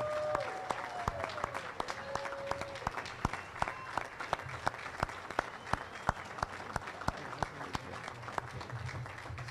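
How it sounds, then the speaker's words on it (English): Audience applause at a Hall of Fame induction event, a fairly faint spread of claps with sharp individual hand strikes standing out, with brief voices murmuring over it. "Let's give them a round of applause."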